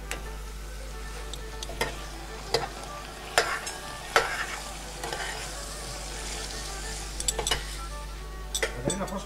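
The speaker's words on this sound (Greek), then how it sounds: "ρίχνουμε και τα φασολάκια. Κάτσε τώρα να τα ανακατέψουμε" Green beans fry in a pot with a steady loud sizzle while a utensil stirs them, scraping and clinking against the metal at irregular intervals, close up.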